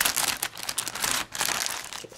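Full dress shears cutting into a shipping package holding an Andre Van Heerden/Tashi Bharucha M35 knife, giving continuous crinkly crunching and snipping of packaging material, close and fairly loud with brief pauses.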